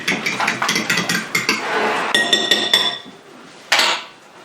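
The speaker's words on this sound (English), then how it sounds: "Forks just seem to really froth it up really well." Fork whisking rapidly in a bowl, a fast rhythmic run of bright metallic clinks and scrapes, then a short pause and one final louder burst of clinking, close and alone.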